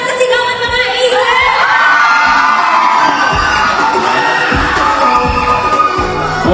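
A large crowd of fans at a BGYO event at Museo Sta. Rosa screams and cheers at full volume, a sustained, high-pitched roar of many voices that holds steady throughout.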